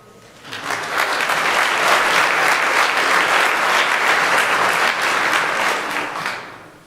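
Applause from a church diocesan convention audience, a loud, dense wash of many hands that rises quickly, holds steady for several seconds, then tapers off.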